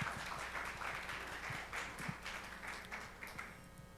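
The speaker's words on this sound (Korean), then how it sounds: "여러분 따뜻한 박수로 환영해 주시기 바랍니다" Audience at an international accounting forum applauding to welcome the next speaker, a steady, moderately distant patter of many hands clapping for about four seconds.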